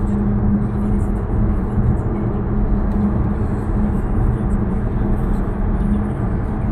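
A Tesla cruising at 110 km/h on Autopilot with adaptive cruise control, giving a steady, loud low road and cabin rumble that holds even throughout, with no voices.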